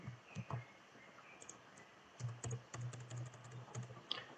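Keyboard typing shortcuts such as copy, cut and paste while editing Node.js and Pug code: scattered soft key clicks, a few isolated taps and then a denser run of keystrokes, faint and close.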